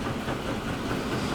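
A train rolls along the rails on a UK mainline in the game Transport Fever 2, giving a steady, even rumble with no talk.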